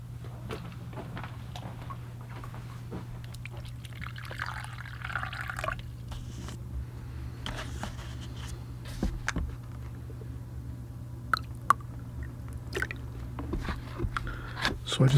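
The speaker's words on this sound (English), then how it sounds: "So I just fill up my water bucket." Fresh water trickles and splashes into a small bucket of paint water at a watercolor painting table, a soft continuous pour under a steady low hum, with a few clicks and light knocks.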